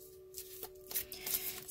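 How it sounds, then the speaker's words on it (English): Energy Oracle cards being shuffled by hand, a quiet close rustle and riffle of cards lasting under two seconds, with a faint steady hum behind it. "I'm going to start with the Energy Oracle cards by Sandra Ann Taylor"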